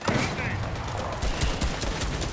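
Rapid gunfire from a shooting emote in the video game Fortnite crackles in dense, loud bursts over a couple of seconds, with voices talking underneath.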